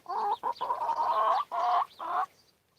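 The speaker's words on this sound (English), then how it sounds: "So we got chickens all around us." Chickens cluck and squawk nearby in a series of nasal calls with short pauses, loud and close with no talking.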